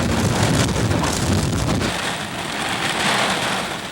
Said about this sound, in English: All day long, sheets of rain fell, causing local streets to flood